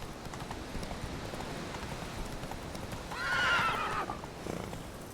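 Roach, a horse in The Witcher 3, runs across the ground with a steady clip-clop of hooves under game ambience, then gives a brief loud whinny near the end.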